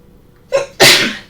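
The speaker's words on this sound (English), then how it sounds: "oh, I think I'm going to sneeze." A single loud sneeze close up: a short sharp intake followed by an explosive burst that trails off.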